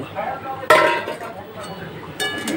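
A utensil stirring liver fried rice in a pan gives a sharp metallic clink, then a second, softer scrape and clink a moment later, with a faint voice in the background.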